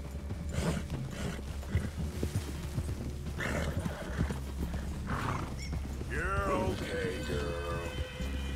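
Horses in the video game Red Dead Redemption 2 clop along with steady hoofbeats at close range, and one lets out a rising whinny near the end. Faint voices sit under the game sounds.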